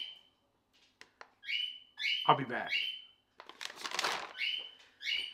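Pet birds squawk and chirp indoors in short, loud bursts separated by pauses, with a person speaking briefly among the calls.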